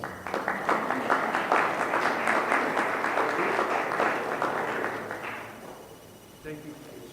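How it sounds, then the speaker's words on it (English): A community services district meeting audience applauds, a dense burst of clapping that holds for about five seconds and then fades out, with faint talk and a thump near the end. "Yes, you can applaud."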